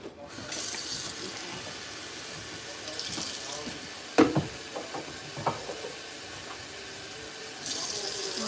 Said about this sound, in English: I might have to add a little bit more water to them because I don't want them to boil out and burn.